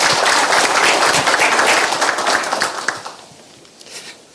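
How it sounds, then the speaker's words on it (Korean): Audience applause at a 2016 junior college policy forum in Korea, a dense burst of many hands clapping that fills the room, then thins and fades out toward the end. "이영 차관님, 저희 박수 한번 부탁드리겠습니다"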